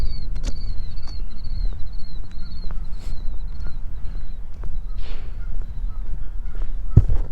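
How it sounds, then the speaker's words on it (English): Geese honking from a distance across an outdoor preserve, a string of short nasal calls repeating through the clip over steady wind and footstep-like rustle, with a sharp knock near the end. "I think there's one of those ditch ponds over there, and that might be where the geese are"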